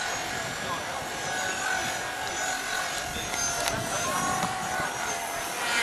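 A steady mechanical whine with a high tonal hum drones on continuously at moderate distance as a radio-controlled model helicopter hovers at an outdoor model show, with faint voices in the background.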